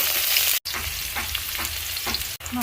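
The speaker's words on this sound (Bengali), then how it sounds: "পেঁয়াজ ভাজা হয়ে গেছে," Onions fry in hot oil with garam masala for a home chicken curry, a close, steady crackling sizzle with stirring scrapes and two brief dropouts.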